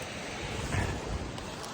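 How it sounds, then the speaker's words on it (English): A river tributary rushing on a warm winter day, steady broadband wash of flowing water with some wind buffeting, continuous and fairly close, no talking. "So we're back down at the river."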